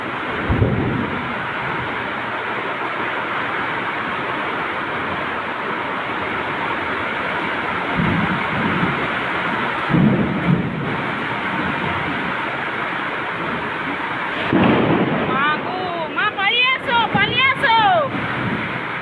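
Heavy monsoon rain pours steadily from a rooftop with deep rumbles of thunder rolling in several times, dense broadband hiss throughout and a voice talking briefly near the end.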